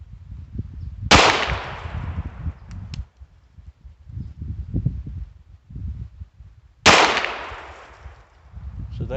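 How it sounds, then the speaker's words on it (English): Two sharp, loud gunshots from a Ruger Wrangler birdshead revolver, several seconds apart, each with a ringing decay, with handling noise and rustling in between. "So there was our 6 shots with the Ruger Wrangler."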